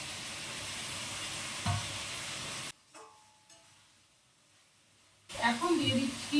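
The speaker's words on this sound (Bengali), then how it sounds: "আর এখন এই দিয়ে দিচ্ছি মাছগুলো" Fish pieces go into hot fried masala in a pan and set off a loud, hissing sizzle. The sound cuts out for a few seconds, then bursts back with crackling spatter, and a voice speaks briefly.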